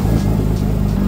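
A car engine revs steadily and loudly close by, a continuous mid-range drone that holds its pitch for the whole short stretch, with no talk over it.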